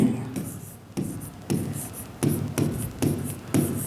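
Marker or chalk writing on a classroom board during a Class 10 geometry lesson, producing repeated short scratchy strokes in bursts, with a voice talking over parts of it.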